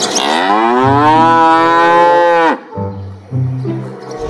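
A cow moos in the dinosaur park game Jurassic World Evolution 2 with one long, loud, low drawn-out bellow, then shorter lowing calls, while a man briefly exclaims.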